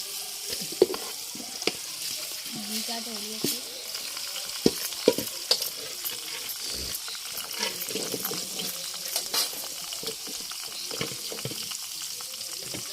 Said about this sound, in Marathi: फोडणी द्यायला हवी, तडतडायला पाहिजे ती फोडणी